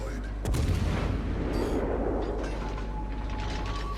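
Heavy naval guns fire toward the battleship Kongo in a warship video game: one loud booming salvo, then rumbling echoes and distant impacts over a continuous low engine drone.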